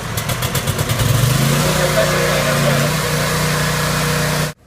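A petrol engine on a tank-mounted pressure cleaner cranks with a rapid stuttering start and then runs steadily, a loud close mid-pitched drone that holds for several seconds before cutting off abruptly at the end.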